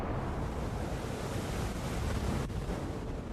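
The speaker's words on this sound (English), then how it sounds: "As the wind picks up" Strong wind roars over open sea aboard the heavy-lift cargo ship MV Fairplayer, with ocean waves surging beneath in a loud, continuous wash and wind buffeting the microphone.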